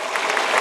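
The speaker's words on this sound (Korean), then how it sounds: "여러분, 이 대목에서 김대중 대통령 박수 한번 쳐야지" Applause from a lecture audience at a special lecture on rule of law and investigative reform, a brief, dense burst of clapping that fills the moment on its own.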